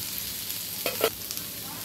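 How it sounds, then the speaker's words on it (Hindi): Onions frying in oil for a Indian drumstick (sengat ki falli) gravy give a steady close sizzle, broken near the middle by a couple of quick spatula scrapes against the pan. "हल्का मैं ऑयल डाल दूँगी और प्याज को भून लूँगी"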